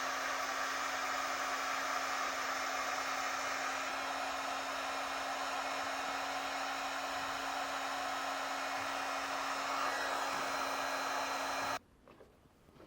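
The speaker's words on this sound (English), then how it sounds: "You come back with a heat gun to seal up the ends." A heat gun blows steadily and loudly while shrinking heat-shrink tubing over wire connections for a Roadmaster Smart Diode 7-wire to 6-wire trailer wiring kit, a constant whooshing drone with a steady hum, cutting off abruptly near the end.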